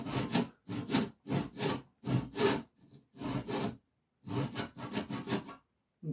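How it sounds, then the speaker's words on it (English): A hand saw cuts a few millimetres into a piece of elm hardwood against a guide in short bursts of rhythmic back-and-forth strokes, close and clear, with brief pauses between groups and no talk. "And cut down. We're only cutting down a few millimeters."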